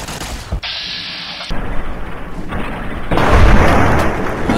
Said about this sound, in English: there appears to be more shooting, more Securitrons, probably more Legion